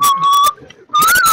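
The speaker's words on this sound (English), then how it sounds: "don't whistle, stop whistling, stop whistling" A person whistles loudly and close up in two sustained bursts separated by a brief gap, the tone holding steady with a slight upward drift, amid clicky background noise.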